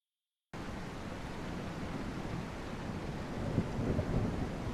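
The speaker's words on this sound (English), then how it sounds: "Sounds like the storm is getting crazier" Thunderstorm ambience in a rainy-night detective video game: a dense, steady wash of rain-like rumble that swells slightly, with a couple of faint thunder cracks toward the end, after a brief silent start.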